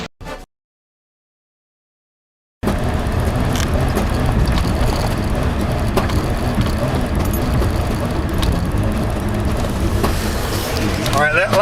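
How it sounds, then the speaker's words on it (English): A car engine misfires as its spark plug wires, sprayed with soapy water, pop and arc; after a brief silence, a rough, uneven running noise continues with irregular crackles. "You can see it popping a spark, see, and the engine starts misfiring."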